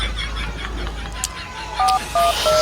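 A few short electronic keypad beeps sound in quick succession over a low background rumble as a number is dialed on a mobile phone.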